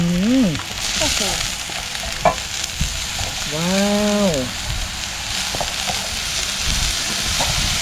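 Khajorn flowers frying in a pan, a loud, steady close-up sizzle that runs throughout, with a couple of short tonal voice-like sounds and a few light clicks over it.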